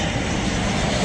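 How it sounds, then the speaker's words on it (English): A jet aircraft roars past near an airport beside the water, a loud sustained engine rumble that fills the whole stretch, steady and close with no talking. "let's see if we can make this happen before the next jet flies by us here, because the airport's right next door"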